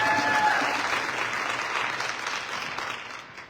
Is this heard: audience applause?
yes